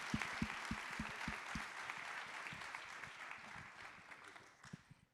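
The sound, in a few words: audience applause for panelists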